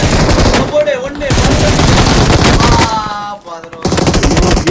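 Rapid automatic gunfire from the battle royale game BGMI, loud bursts nearly continuous across the clip, with a brief gap near the end before firing resumes, layered over game effects and a speaking voice.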